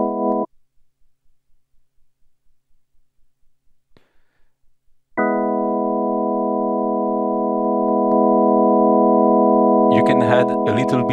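A tonewheel-style clone organ running on an STM32 board holds a sustained, loud chord with tremolo, following a brief chord and faint ticking; someone speaks briefly over the end.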